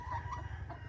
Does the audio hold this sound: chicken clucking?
yes